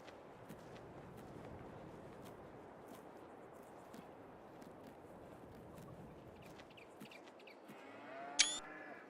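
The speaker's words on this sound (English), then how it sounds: "Hey, come on there, cow." A cow in the farming game Farming Simulator 22 gives a single short moo near the end, rising over a steady, hissy outdoor farm ambience.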